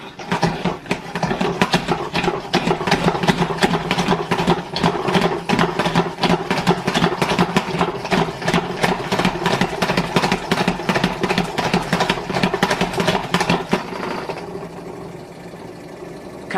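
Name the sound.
salad spinner spinning lettuce dry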